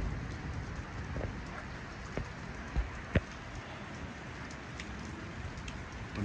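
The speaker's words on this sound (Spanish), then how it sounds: "me despido de esta tormenta, de este video, de esta noche, en esta medianoche de tormenta invernal" Heavy winter rainstorm at midnight in the San Fernando Valley: a steady, dense wash of rain with a few sharper drip and splash knocks, continuous and fairly close throughout.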